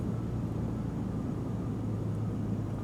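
Piper Warrior light aircraft in a flight simulator game gives a steady, unbroken engine and propeller drone with broad airflow noise, constant in level throughout and with no voices.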